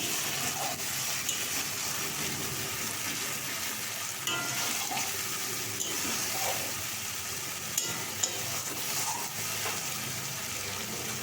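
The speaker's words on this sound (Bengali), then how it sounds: "কাজু বাটা এবং কাজু এবং টমেটোর যে পেস্টটা ছিল ওটা দিয়ে দেবো এটা দিয়েও আমি কিছুক্ষণের জন্য ওটাকে কষিয়ে নেব মশলাটা" A cashew and tomato masala paste frying in a pan for spiced potato curry, giving a steady, fairly faint sizzle with occasional stirring scrapes throughout, and no voices.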